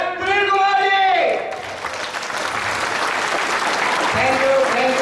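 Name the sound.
audience applause for the speaker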